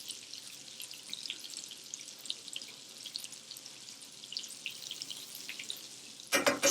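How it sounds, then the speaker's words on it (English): Butter sizzles steadily in a pan as burger buns toast, a soft continuous crackle with a brief louder clatter at the very end. "I'm going to get some more butter in that pan for the rest of my rolls"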